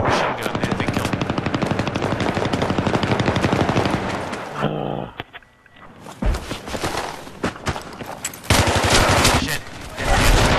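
Rapid, sustained machine gun fire in the online shooter game Battlefield 3, loud and dense for several seconds, then a short pause before scattered shots and action sounds resume.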